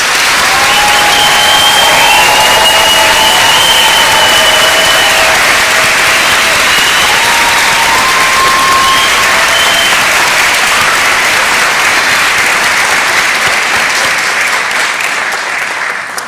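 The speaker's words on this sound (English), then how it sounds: "please give them an enthusiastic round of applause" A large crowd of family and friends gives sustained, loud applause for graduates at a 2018 NYSID commencement ceremony, a dense roar of clapping with faint cheers that holds for over fifteen seconds before easing slightly.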